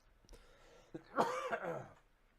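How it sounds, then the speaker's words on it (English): A single rough cough, close up, followed by a short throat-clearing rasp; no talking. "I didn't really take anything for this cough."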